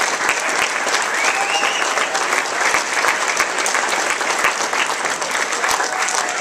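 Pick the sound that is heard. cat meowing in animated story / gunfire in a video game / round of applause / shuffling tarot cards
round of applause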